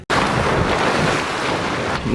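Water rushing into a submerged car during an escape test, a loud, steady roaring gush that starts abruptly and pours without letup.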